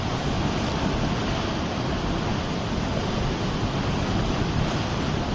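Rushing floodwater after a cloudburst in Sahastradhara, Dehradun, a loud, steady roar of surging water and wind-like noise that holds without a break throughout.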